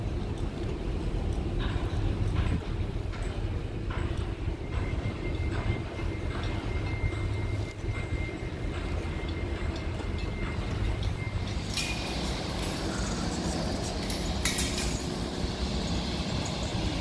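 A tram arriving rumbles steadily nearby with low mechanical drone, occasional clicks of wheels on rails, and a brief high metallic squeal near the end.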